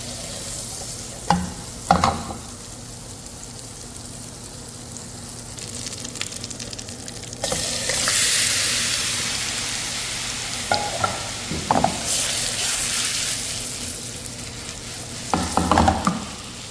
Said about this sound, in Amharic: የዶሮ ስጋው ትንሽዬ ብራውን እስኪሆን ድረስ ቡኒ እስኪሆን ድረስ ትንሽዬ በሳት እንደዚህ ማማሰል አለብን።